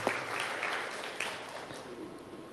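A church congregation breaks into applause for God during a sermon, a dense wash of clapping that stays steady and fairly close for a couple of seconds with no voices on top.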